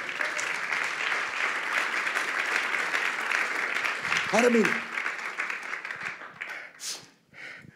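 Congregation clapping in church during a sermon, a steady wave of applause that fades out as a voice speaks over the tail end.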